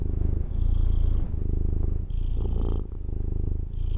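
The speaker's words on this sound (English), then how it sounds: "Here is the sound of this cat purring." A cat purrs steadily up close, a deep rhythmic rumble with short pauses between breaths.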